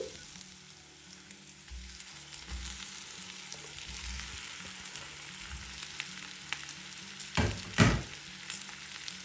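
Boiled potato pieces sizzle and fry with masala in a pan, a soft continuous crackle with occasional stirring scrapes and a couple of louder clatters near the end, no voices.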